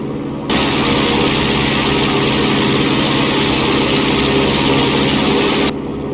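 Propeller airplane engine during slow flight training with power pulled back to about 1,500 RPM, a loud steady drone and low throbbing hum that starts abruptly, runs unbroken, then cuts off near the end.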